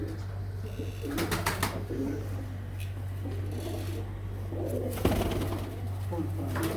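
Breeder pigeons coo softly in their setup, with repeated low throaty calls and some wing flutters close by, over a constant low electrical hum and someone talking.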